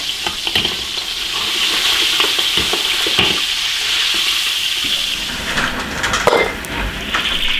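Beef ribs deep-frying in hot oil in an iron wok, a loud, dense, continuous sizzle and bubbling close up, with scattered clinks and scrapes of stirring and no voices.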